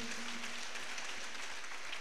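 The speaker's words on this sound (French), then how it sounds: "Je voudrais nommer le professeur Chamien Borosé, que je prie d'applaudir." An audience at a Christian fellowship event applauds a professor, giving faint, steady, distant clapping that lasts the full short moment with no voices over it.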